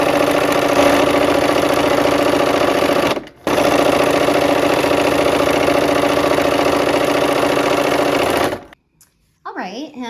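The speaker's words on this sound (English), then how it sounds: "We're gonna sew these seams." A sewing machine stitching quilt seams runs in a loud, steady, close whir with a brief pause near the start, then stops abruptly, leaving a few faint handling noises.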